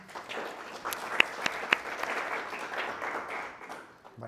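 An audience bursts into applause at a talk on David Graeber's anthropology and anarchism, many hands clapping in a dense, fairly close wash with a few sharper individual claps standing out early on, easing off toward the end.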